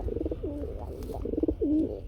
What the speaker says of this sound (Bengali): একদম ডাকের কবুতর